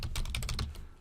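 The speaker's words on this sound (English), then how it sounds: "oh, it doesn't like my backspace key." Rapid close-up keystrokes on a computer keyboard, about eight quick clicks in a burst that tapers off, with no talking.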